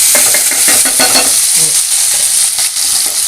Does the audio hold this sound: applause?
no